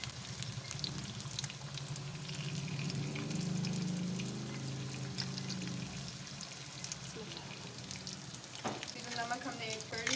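Salted potatoes fry in hot oil with a dense, continuous sizzle and crackle throughout, close and even in volume, while a faint voice comes in briefly near the end.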